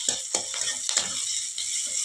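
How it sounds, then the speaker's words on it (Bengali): Fish curry is stir-fried in a pan with a steady sizzle, broken by several scraping strokes of a spatula in an uneven rhythm, close and clear with no talking. "এখন আমি মাছের ঝোলটা বসিয়ে নিয়েছি, মানে মাছের ঝোলটা কষাচ্ছি আর কি।"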